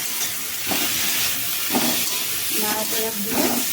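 Bottle gourd peels fry in a pan with turmeric and salt, giving a steady, close sizzle and hiss with a few brief bursts of stirring.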